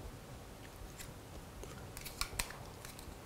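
Scissors snip through plastic memory card packaging, giving a few quiet, sharp cutting clicks over a faint background hiss, with the strongest snips bunched near the end.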